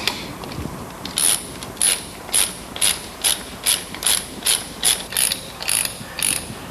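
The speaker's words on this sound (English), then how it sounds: "Then use your ratchet wrench and bring it together." A ratchet wrench tightens gold bolts on PLP stainless steel splice closure end plates, about a dozen crisp, evenly paced clicking pulls close to the ear with no talking.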